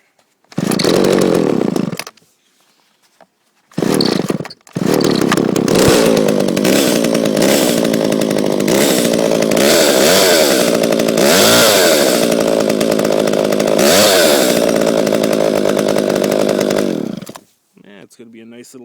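A John Deere 25EV chainsaw cold-started with the choke on: two short bursts of loud two-stroke engine noise, then it catches and runs steadily close by at a high buzzing idle with revving swells, cutting off at the end.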